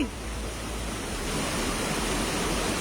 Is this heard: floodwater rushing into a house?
yes